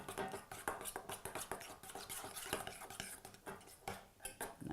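A utensil stirs honey into a sauce, producing quick, close clinks and scrapes against the dish in a busy, uneven rhythm, fairly soft overall.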